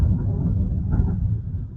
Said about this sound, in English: it's thundering where I am too